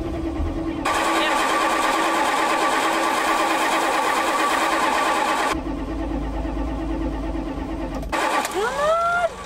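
An abandoned Plymouth Fury's engine cranks over with a steady, loud churning whir that runs for several seconds, halts, and then starts again briefly.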